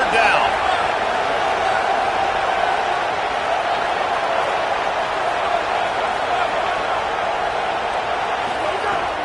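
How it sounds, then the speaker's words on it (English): A home crowd at a UCLA football game sends up a steady, distant roar during a third-down defensive stand, an even wash of noise with no distinct cheers standing out. "Here comes his home crowd as the defense tries to get off the field on third down."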